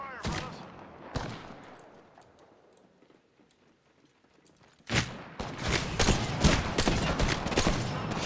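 Bursts of gunfire in Apex Legends, with a couple of sharp shots early, a quiet lull, then dense rapid firing packed with impacts from about five seconds on, loud and close.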